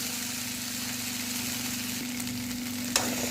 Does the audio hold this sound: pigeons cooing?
no